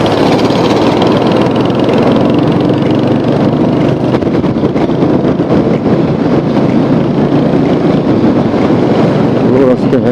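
A Royal Enfield Hunter 350 motorcycle cruises along a quiet village road with a steady, loud engine drone and heavy wind rush throughout, while a rider talks faintly beneath it.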